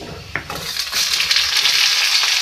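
Eggplant drops into a pan of frying potatoes, and a brief knock gives way to a loud, close, steady sizzle that swells and then holds.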